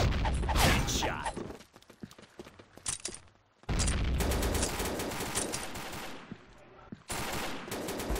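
Gunfire in the shooter Project Blackout comes in loud rapid bursts, broken by short pauses with mechanical clicks and creaks, then resuming in sharp, dense volleys.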